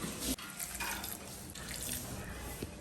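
Sweet corn being put into water in a cooking pot, a quiet running and sloshing water sound, steady with a brief splash near the start, without talk.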